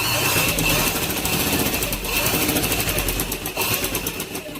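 A sewing machine stitches a girl's frock, running in a steady, fast mechanical chatter through the whole stretch, loud and close with a continuous rattling drive.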